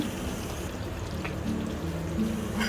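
A thick liquid sound of paneer butter masala paste being poured and stirred into a bubbling pot of gravy, with low gurgling and a few soft taps, nearby and steady.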